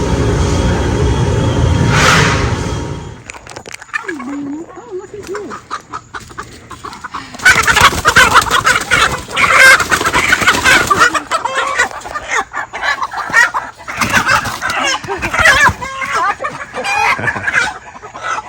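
Chickens cluck and squawk close by in bursts, with a low steady hum underneath and a louder noisy stretch at the start.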